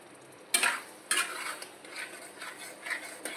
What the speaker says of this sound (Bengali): টমেটো যে পেস্টটা করেছিলাম সেটা এবার আমি এর মধ্যে দিয়ে দিলাম। দিয়ে এবার খালি আমি কষাবো জিনিসটাকে নিয়ে।